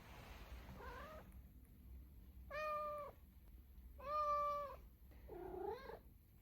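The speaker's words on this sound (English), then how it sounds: "Cats when they haven't been fed in 36 seconds." A hungry cat meows four times with pauses between, each call drawn out and rising and falling, close and clear over a low background hum.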